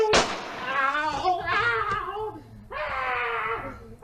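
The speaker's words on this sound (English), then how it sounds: "and you heard him scream" A man screams in long, wavering, strained cries close by, two drawn-out bursts separated by a short pause, during a police encounter early in the morning.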